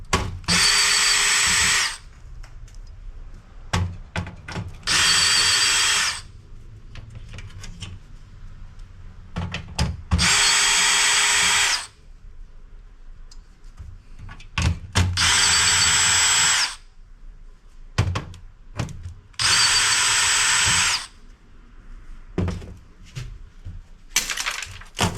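A power drill fitted with a socket spins screws out of a retro PC, with five loud, steady whirring bursts of about two seconds each, separated by quiet gaps of small clicks and handling clatter.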